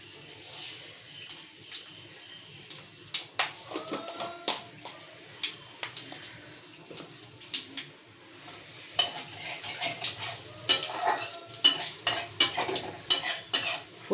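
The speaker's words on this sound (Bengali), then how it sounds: "মাছ ভাজার তেলটা, সেই তেলের মধ্যে আমি একটু কালো জিরে ফোড়ন দিয়ে দেবো" Black cumin seeds temper in leftover fish-frying oil while a utensil stirs and clinks against the pan in irregular sharp taps over a low sizzle, getting busier toward the end.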